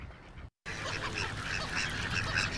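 Ducks and other waterfowl at a park wetland preserve give a busy, continuous chorus of quacks and honks, close and fairly loud, broken by a brief silence near the start.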